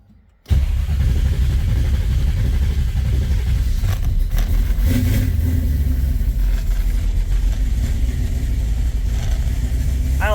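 A 1967 Chevy Nova V8 rumbles to life with a sudden loud start, then idles low and heavy with a few revs, close and continuous with no talk.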